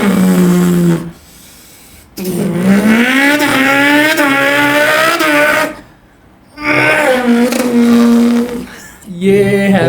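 A beatboxer imitates a motorbike with his mouth, delivering loud, sustained revving bursts with rising and falling pitch, broken by short pauses between runs.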